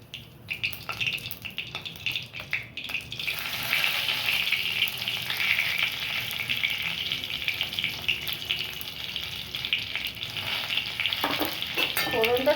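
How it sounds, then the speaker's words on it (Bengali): Tempering spices frying in a little oil in a kadai, a brief clatter as they drop in, then a loud, steady, close crackling sizzle that continues to the end. "ফোড়নটা সামান্য ভেজে নিচ্ছি"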